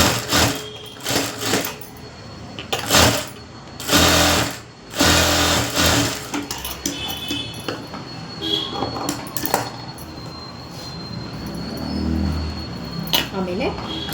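A sewing machine stitching a princess cut blouse runs in short bursts and then a longer steady run, close and fairly loud, with someone talking between and over the stitching.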